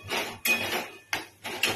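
Fried potatoes being stirred into spiced masala in a cooking pan, with a utensil clanking against the pan in three sharp knocks over a continuous sizzling scrape, close up and with no talk.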